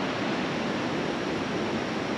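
Waterfall at Champagne Falls, a steady broadband rush of falling water filling the scene evenly, loud and continuous with no voices over it.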